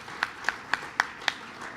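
An audience at a White House Cinco de Mayo celebration claps in a sparse, fairly distant pattern, with five evenly spaced sharp claps standing out over a soft background wash.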